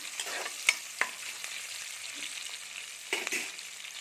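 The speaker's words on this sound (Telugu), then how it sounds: "ఆనియన్ పచ్చిమిర్చి వేయాలి ఒకసారి బాగా కలపండి ఉల్లిపాయలు బాగా ఫ్రై అవనివ్వండి" Onions and green chillies fry quietly in a pan with a low, continuous sizzle, broken by a few sharp spatula taps and scraping stirs near the start and again toward the end.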